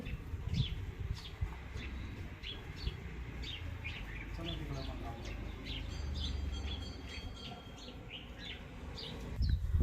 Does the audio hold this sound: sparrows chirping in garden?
yes